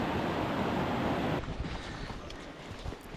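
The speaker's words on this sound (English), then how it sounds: "the creek was flowing pretty heavily" A mountain creek running high and fast on the trail up Mount Baker, a steady broadband rush of water that is loud at first and then drops to a softer, closer-miked flow with some light wind.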